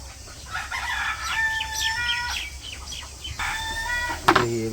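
Chickens on a village poultry farm cluck and cackle in drawn-out, repeated calls at close range, ending in a louder burst that sounds like flapping wings.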